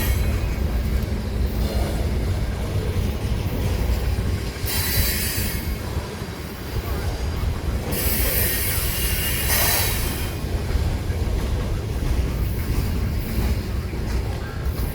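Freight train of old rolling stock, including ATSF hoppers and well cars, rolling past at Galesburg: loud continuous rumble of wagons with clacking wheels and several high squealing bursts.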